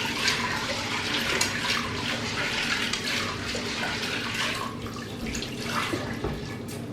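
Running water pours steadily over kidney beans and peas being washed, a constant close splashing rush with faint clatter throughout.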